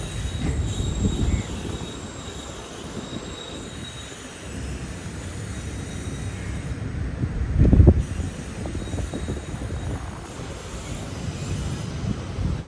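A sleeper-class special train bound for Mangaluru Central runs steadily with a continuous low rumble, wheel squeal and wind noise, and a louder rattling burst partway through.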